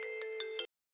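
An incoming call rings on a phone as a steady electronic ringtone, with four evenly spaced pulses over a sustained tone that cuts off abruptly, alone with no talk.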